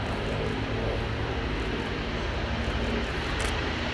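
A Mark 9 Spitfire piston fighter in desert camouflage, marked as a 92 Squadron aircraft, drones past in a flypast, a faint, steady engine hum with a low throb.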